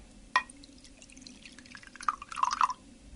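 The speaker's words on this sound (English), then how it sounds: "So I swirl that round a bit and tip that into the glass." Bicarbonate of soda solution is tipped from a container into a glass, giving a faint trickle with soft splashes and small clinks of liquid against glass, quiet and close with no talking.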